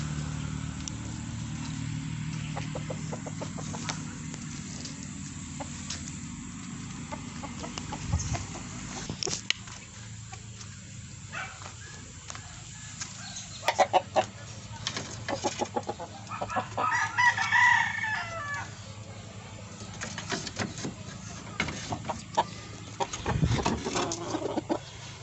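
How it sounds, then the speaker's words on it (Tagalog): Domestic chickens clucking in a backyard poultry yard, with a rooster crowing and other fowl calling intermittently, moderately close against steady outdoor background noise. "Ipakita ko sa inyo mga alaga kong manok."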